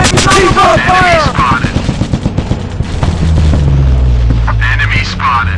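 Loud automatic gunfire in a video game fires in a rapid rattling burst, followed by a deep rumbling boom, with shouted voices over the shooting.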